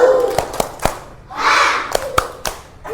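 A classroom of schoolchildren claps through a short rhythmic chant led by a teacher, with sharp separate claps and a burst of group voices shouting mid-phrase, fairly close and loud.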